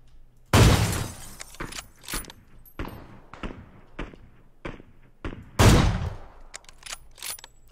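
Two loud, sharp gunshot bursts in PUBG on the Miramar map, separated by several seconds, with fainter cracks and clatter scattered between them and no talking.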